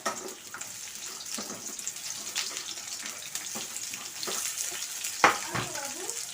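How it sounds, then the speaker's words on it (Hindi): Onions dropped into hot mustard oil in a kadai over a high flame, frying with a steady, fairly quiet sizzle and a few sharper clinks and scrapes near the end. "यहीं पर सारे प्याज को डाल देते हैं"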